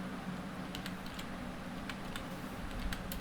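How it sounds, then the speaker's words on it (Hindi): Typing on a computer keyboard in English text, a quiet, steady patter of light key clicks with a few sharper taps, heard alone at low level. "English typing."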